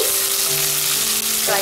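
Green chilies, chopped onion and curry leaves frying in hot oil for a multigrain vegetable upma, a loud dense continuous sizzle with a faint steady hum underneath, no talking.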